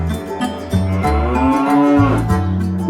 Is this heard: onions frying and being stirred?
no